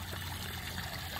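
Soft, continuous trickle of a small waterfall spilling into a roughly seven-foot-wide pond reservoir, faint and even with a low steady hum beneath it.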